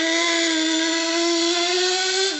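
A nitro-powered 1/16 scale Axial Yeti Junior RC car runs during a brake test, its small engine giving a loud, steady high-pitched buzz that holds without a break and dips slightly in pitch at the very end.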